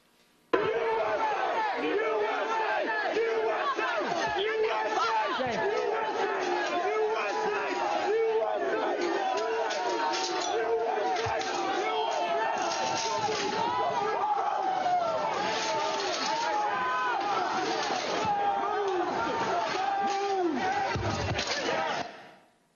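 A large crowd of rioters massed at the Peace Circle outside the US Capitol keeps up a continuous roar of shouting and clamor, dense and loud throughout before cutting off abruptly at the end.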